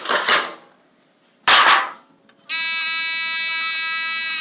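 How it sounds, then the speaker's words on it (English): A buzzer in a simple battery circuit, closed through a metal pan, follows two sharp metallic clanks of contact and then sounds as a loud, steady, continuous electronic buzz. "the electrons are moving from the battery to the wire, through the pan, to the wire, and then out to the buzzer to make a sound."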